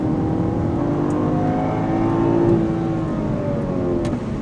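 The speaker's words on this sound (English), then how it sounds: "heading out on the South Palm circuit in M4 competitions, equipped with the Hoosier TrackAttack Pro" A BMW M4 Competition on Hoosier TrackAttack Pro tires drives a race circuit, its engine a steady, loud drone heard from inside the car, pitch rising slightly and then easing, with no talk.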